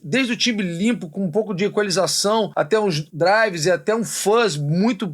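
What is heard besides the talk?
No everyday noises stand out.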